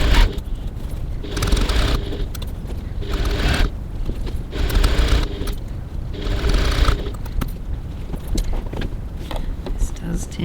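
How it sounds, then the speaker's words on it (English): A sewing machine stitches the bottom seam of a handbag lining with a 1 cm seam allowance and 2.4 stitch length, running in several short, evenly spaced bursts over a loud, rumbling background. "So now I'm going to stitch the bottom of my lining closed."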